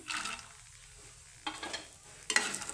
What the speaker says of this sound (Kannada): ಹಾಕ್ಕೊಂಡ್ಬಿಟ್ಟು ಚೆನ್ನಾಗಿ ಹುರ್ಕೋಬೇಕು